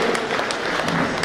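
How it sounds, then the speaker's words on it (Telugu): An audience applauds at a retirement ceremony, a dense continuous wash of many hands clapping together, steady and fairly loud throughout. "గట్టిగా చప్పట్లు కొట్టాలి."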